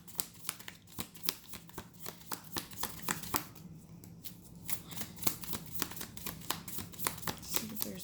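A deck of tarot cards shuffled by hand, close, quiet riffling and rapid flicking taps in a steady rhythm lasting several seconds, with a brief pause midway.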